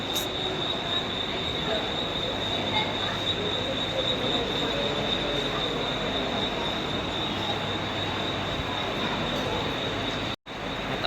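A Mumbai local train to Panvel pulling away from platform 1 at Thane station, loud continuous rumble with a sustained high wheel squeal and steady rail clatter, brief dropout near the end.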